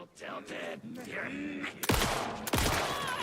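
In the video game Alan Wake 2, speech is followed by two loud gunshot blasts about half a second apart, each leaving a brief ringing tail.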